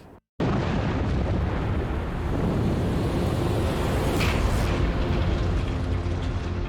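A huge Cretaceous-era volcanic eruption explodes with a sudden onset, then becomes a loud, continuous, broadband roar and rumble that holds steady throughout. No voices are heard.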